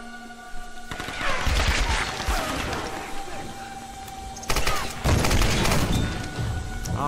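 Gunfire in Tomb Raider Definitive Edition, bursts of loud shots and impacts in two clusters with a sharp crack near the middle, over game ambience and a player talking.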